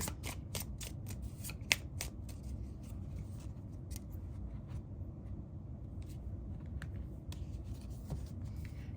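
Tarot oracle cards are shuffled and drawn in a run of quick, crisp riffling flicks over a low steady background rumble, close but fairly quiet, with no talking.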